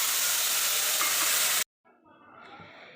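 Chili powder mixed with water is poured into caramel made in oil left from frying birista for Kolkata-style caramel chicken kosha. A loud, steady, close sizzle lasts about a second and a half, cuts off abruptly, then quieter frying crackle follows.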